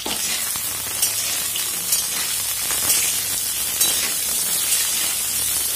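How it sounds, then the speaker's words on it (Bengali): Potatoes fry in mustard oil in a wok with a loud, dense, continuous sizzle, with occasional crackles and stirring scrapes, close up and without talking. "এখন আমি আলুগুলো ভেজে নেব।"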